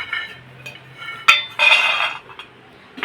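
Roasted peanuts are tipped out of a pan onto a plate: a sharp metal clink, then a short rattling pour of nuts, followed by a few light taps close by.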